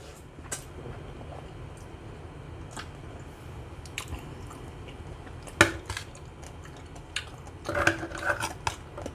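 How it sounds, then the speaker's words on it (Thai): A spoon scooping spicy Thai food such as papaya salad and noodles, with scattered soft clinks and wet squishy scrapes close up, a sharp clatter midway and a busier cluster of taps near the end. "ขอใช้ช้อนตักดีกว่านะครับ"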